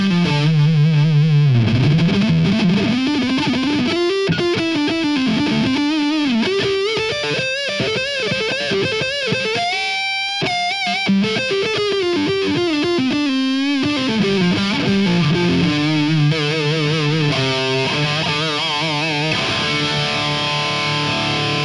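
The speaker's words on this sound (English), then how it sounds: "if we now kick in the overdrive, we can have a listen to how that sounds with the tone rolled off onto the neck pickup" Gibson Les Paul, a Zakk Wylde signature model, played through overdrive on the neck pickup with the tone rolled off, giving a dark, distorted lead line with bends and fast runs, loud and continuous without talk.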